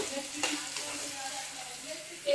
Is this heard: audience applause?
no